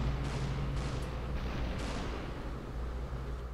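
Heavy, continuous gunfire with booming low-end rumble from a machine gun in SUPERHOT, loud and steady across the moment with a few sharper bursts riding on top.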